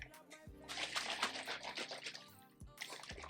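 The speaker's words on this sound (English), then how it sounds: "Look at the carbonation. Look at that. Listen, that is the coolest thing ever, honestly." Sparkling water fresh from a SodaStream fizzes close and quietly, a dense crackle of popping bubbles that swells and fades in bursts over a few seconds.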